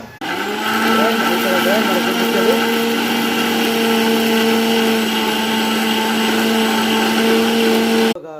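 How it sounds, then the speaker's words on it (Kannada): A kitchen mixer grinder whirs steadily at high speed, blending green apple and mint with a little water, a loud, even motor drone that starts abruptly and stops sharply at the end. "ಆಮೇಲೆ ಇದನ್ನು ಗ್ರೈಂಡ್ ಮಾಡಬೇಕು. ಸ್ವಲ್ಪ ನೀರನ್ನು ಹಾಕಬೇಕು."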